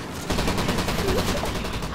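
Rapid gunfire in an online video game match, a dense burst of repeated shots lasting about two seconds, loud and continuous.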